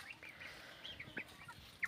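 Backyard country hens and a rooster clucking faintly with short, scattered calls on a Konkan village farm, distant and soft over a quiet background.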